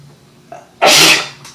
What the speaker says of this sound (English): I think we've now sneezed the same amount of times.